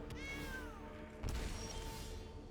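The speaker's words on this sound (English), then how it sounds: "It's a cat." A single cat meows in the digital card game MTG Arena, a short, fairly quiet, falling cry near the start, followed by a soft thud and low background hum.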